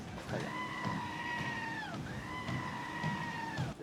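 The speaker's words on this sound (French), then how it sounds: "Je me suis attaché à cette petite chèvre finalement" A small goat lets out two long, drawn-out bleats close by, each a wavering nasal cry lasting over a second, with faint background noise between them.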